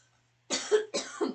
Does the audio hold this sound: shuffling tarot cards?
no